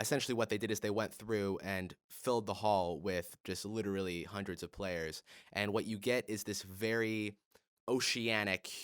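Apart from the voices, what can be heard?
None of the usual background noises is heard.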